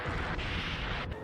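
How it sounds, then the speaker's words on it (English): Explosions from a Godzilla monster battle against two monsters including Mechagodzilla, heard as a continuous heavy rumbling barrage with low booms, loud and dense across the whole moment. "There's plenty of explosions. And I do mean plenty."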